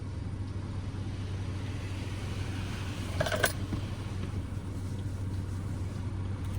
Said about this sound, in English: now we should be getting the spot free rinse